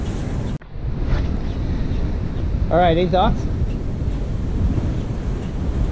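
Steady, heavy wind roars across the microphone on the deck of the SS Badger ferry crossing Lake Michigan, with a faint wash of water beneath, and a person briefly speaks partway through.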